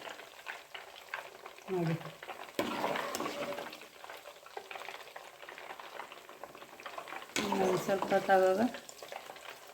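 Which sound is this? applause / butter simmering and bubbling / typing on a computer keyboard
butter simmering and bubbling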